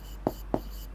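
Chalk or marker writing math on a classroom board: three short, soft scratchy strokes spaced evenly across a second, quiet and close, with faint room hiss behind.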